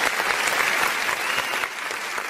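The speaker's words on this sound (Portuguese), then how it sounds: "dá uma salva de palmas" Loud, dense applause for a birthday on a Brazilian talk show, many hands clapping close together in a continuous burst with a few sharper slaps standing out.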